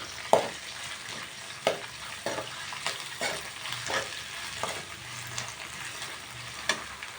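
Ginger garlic paste frying in a pan, a soft steady sizzle broken by sharp scraping clicks as it is stirred every second or so, close and with no talking.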